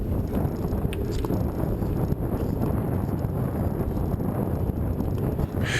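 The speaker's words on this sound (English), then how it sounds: "Windy days, you can hear." Loud, constant wind buffeting a microphone while cycling in Chicago traffic, a heavy low rumble with gusty fluctuations throughout.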